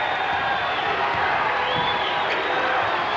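Basketball crowd at a 1995 Oregon at Oregon State college game, a steady broad roar of cheering and whooping filling the arena throughout, loud and continuous with no clear breaks.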